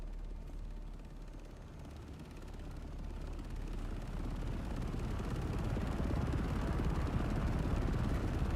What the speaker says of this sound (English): I love the landing of the dual ornithopters.